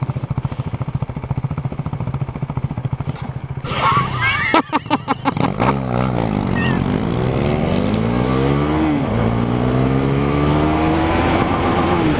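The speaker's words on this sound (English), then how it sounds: "Little rev bomb there." A Husqvarna Vitpilen or Svartpilen 401 motorcycle idles close by, then its engine revs sharply in a quick burst and settles back into a steady, rising drone.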